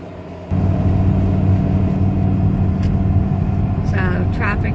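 An RV on a highway near Phoenix, a loud, steady road rumble and engine drone that swells after a short pause, with faint chirps near the end and a person speaking over it.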